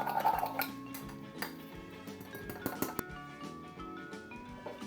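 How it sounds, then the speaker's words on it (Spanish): Buckwheat flour and tapioca starch stirred together in a kneading bowl, with steady clinks and scrapes of a utensil against the bowl over a soft tonal background. "mezclando las harinas en un recipiente en el que podamos amasar"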